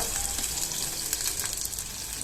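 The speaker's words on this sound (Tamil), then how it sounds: "3 கத்திரிக்காய் போட்டு ஒரு 5 மினிட்ஸ் எண்ணெயிலே நம்ம ஃப்ரை பண்ணலாம்" Eggplant pieces frying in oil on medium heat for a curry give a close, steady crackling sizzle with faint stirring and no talking.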